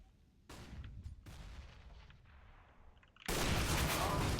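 Gunfire in Counter-Strike: Global Offensive on the Dust2 map: sharp, loud shots crack out in separate bursts, with a final heavier burst followed by sustained ringing noise.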